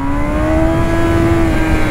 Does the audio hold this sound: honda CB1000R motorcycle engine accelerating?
yes